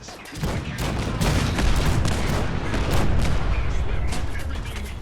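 Ship cannons on a warship in the Fallout 4 video game fire a rapid fusillade of warning shots, heavy booms overlapping continuously and loud throughout.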